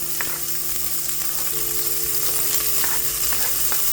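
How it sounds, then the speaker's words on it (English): Chopped onion sizzling in hot oil in a soup pot, a loud, close, continuous crackle with small pops and faint stirring scrapes, no talking. "to a pot, you want to go ahead and start off with some oil, and I'm going to add my onion"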